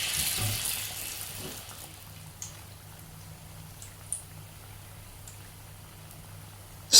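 Battered banana slices frying in very hot oil give off a steady, soft sizzling hiss throughout, with a few faint pops and a sharper clatter at the very end. No one speaks.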